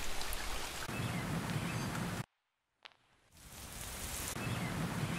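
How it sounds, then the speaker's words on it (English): A rain sound sample hisses as a steady broadband wash of falling rain, cutting out abruptly into brief silence with a single soft click, then swelling back in. "I'm just going to drop in a rain sample."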